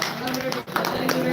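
Devotees clap at a Ganesh laddu auction while a voice talks over them. The scattered handclaps are fairly faint and partly masked by the speech.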